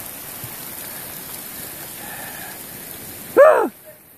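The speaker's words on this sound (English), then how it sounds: "We got lots of hail coming down in this thunderstorm." Hail and rain coming down during a thunderstorm on a hiking trail make a steady, even wash of noise throughout, with a brief louder burst near the end.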